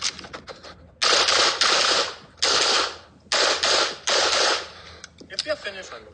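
Rapid strings of gunshots ring out at a shooting competition stage, several loud bursts of fire separated by brief pauses, close and sharp, with a few quieter mechanical clicks at the start and end.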